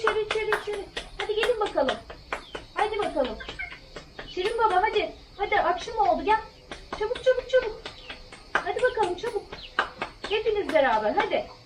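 Hens and twelve chicks cluck and chirp in quick repeated bursts, close by, with small peeping calls mixed in and a person talking intermittently in Turkish in a village.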